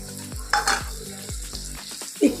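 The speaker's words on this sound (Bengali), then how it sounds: "এবার এর মধ্যে আমি দিয়ে দেবো আদা রসুনের পেস্ট," Ginger garlic paste fries in a wok with a light sizzle, punctuated by several rhythmic spatula scrapes and knocks against the pan, close and without talk.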